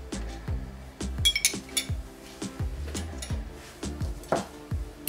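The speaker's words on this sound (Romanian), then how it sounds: "Acum am să sparg un ou. Am să pun și o lingură de lapte." Cracking an egg and adding a spoon of milk while making vanilla cream buns, heard as a run of light metallic clinks and taps of a spoon against a dish, close and fairly quiet.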